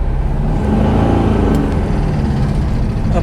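A smoking 1966 Porsche 912 on its first drive, its engine a loud, steady low drone from inside the car, held without much revving.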